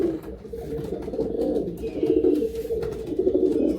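Andhra pigeons coo in repeated low, throaty rolls, close and continuous, with the calls overlapping and swelling now and then.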